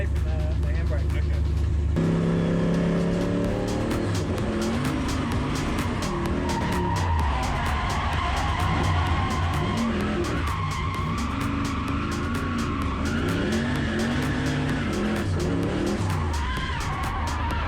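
A car drifts with a clutch-kick entry, the engine revving hard as tires skid and squeal loudly and continuously, close by, with voices talking over the noise.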